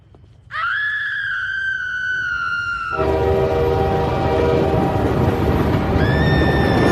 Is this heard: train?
yes